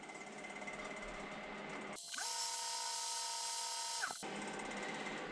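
Steady whooshing friction as 240-grit sandpaper is pressed to wood spinning on a lathe, heard close over the machine's constant hum. The sanding is loud and even for about two seconds and then stops.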